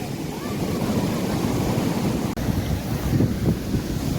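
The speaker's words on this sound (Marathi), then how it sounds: "जोराने लाटा येतात." Strong sea waves at Arnala beach, a loud continuous roar of surf mixed with heavy wind buffeting the microphone.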